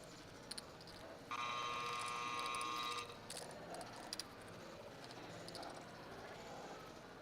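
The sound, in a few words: poker action clock buzzer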